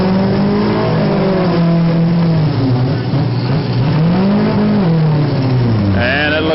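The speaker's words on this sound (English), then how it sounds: "Josh Edwards out of Richwood, trying to get that machine re-fired." A youth-class race car engine revs and drones loudly at a dirt track event, its pitch rising and falling in waves, while a track announcer talks over it.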